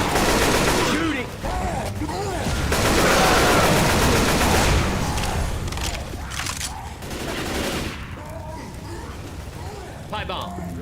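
Gunfire during a chaotic fight in the game Left 4 Dead, loud overlapping shots and bursts mixed with voices talking and shouting throughout, with the firing dense early on and thinning toward the end.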